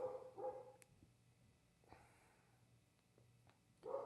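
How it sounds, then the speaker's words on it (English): A dog barking upstairs in a house, a few faint, muffled barks spaced apart, with quiet room noise in between. "my dog is barking upstairs"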